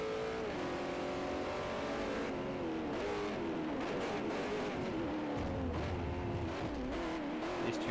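Race car engine in the Forza Motorsport 4 racing game, revving and shifting through gears with rising and falling pitch, steady and close, with faint tire noise and no talking.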